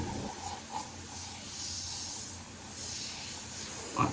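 A Gaahleri GHPM-Mobius SP premium airbrush gives a steady, even hiss of spraying air that runs close and unbroken for several seconds and ends in a small sharp click, with nobody talking.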